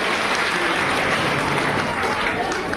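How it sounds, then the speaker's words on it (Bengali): Students clapping to greet guests at an International Nurses Day event in Pirojpur, a steady dense roar of applause filling the whole short stretch at close, even loudness. "আবারও জোরে করতালি মাধ্যমে শুভেচ্ছা জানাই"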